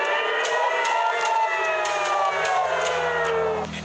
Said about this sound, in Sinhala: ඊශ්‍රායලයට එල්ලවන මිසයිල ප්‍රහාර වලින් ආරක්ෂා වීම සඳහා එරට වැසියන්ට අනතුරු අඟවන සයිරන් නාද නිරන්තරයෙන් නාදවන්නේ මෙලෙසින්.